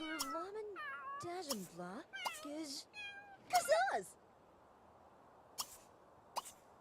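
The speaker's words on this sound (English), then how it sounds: "I got a cat on your porch." A cat in The Sims meows on a porch, a string of several drawn-out, wavering meows followed by a couple of short clicks, close and clear against a quiet background.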